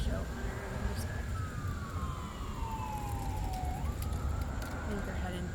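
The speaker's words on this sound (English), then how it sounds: "has an ambulance going by" A passing ambulance's siren wails from a distance at moderate volume, its pitch sliding down as it goes by, over a low rumble of traffic. No one speaks.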